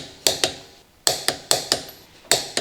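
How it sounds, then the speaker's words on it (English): A torque wrench tightens the lug nuts on a Honda Civic wheel with a 19mm long socket, giving six sharp, close ratcheting clicks in uneven pairs and singles, with short pauses between them. "Using the 19mm long socket with the torque wrench, torque the lug nuts."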